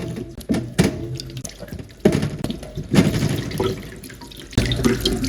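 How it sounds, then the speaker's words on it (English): Running tap water pours steadily into a sink, splashing and gurgling with shifting intensity as celery, cucumber and apples are rinsed under the stream, close by. "give everything one more good rinse under clean water."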